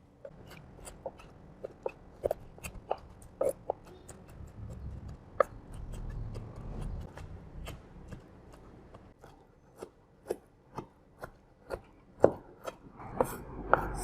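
Pork ear being chopped with a knife on a cutting board for a Cambodian stir fry, sharp irregular thuds and taps close by, quicker near the end.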